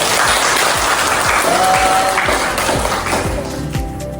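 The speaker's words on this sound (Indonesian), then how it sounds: "Tepuk tangan untuk kalian semua." Students in a classroom applaud, giving a brisk, close burst of many hands clapping that goes on throughout and eases slightly toward the end.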